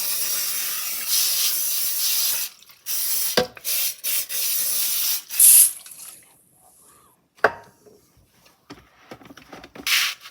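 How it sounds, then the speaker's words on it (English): An aerosol can of cooking spray sprays in several short hissing bursts, some stopping abruptly, followed by quieter rattles and taps. "Just grab a cooking spray."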